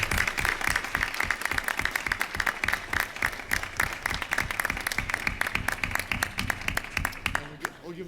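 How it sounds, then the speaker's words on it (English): Steady, dense applause from a crowd at a school committee meeting, many hands clapping loudly and continuously, with voices mixed into the roar. "If we could have a round of applause for them."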